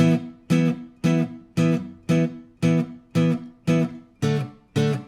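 Guitar power chords strummed in a steady even rhythm, ten ringing downstrokes with short decays, close and clear with no talking.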